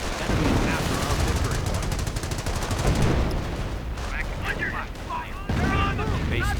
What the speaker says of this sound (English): Against the machine gun. Always the machine gun.